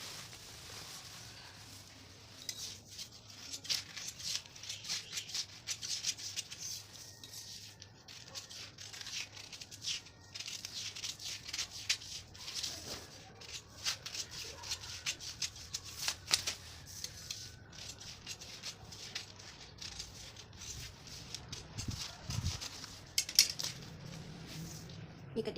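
Scissors snipping through a paper pattern for a 30-inch blouse, heard as quiet, close, crisp cuts and light paper rustling with no one talking.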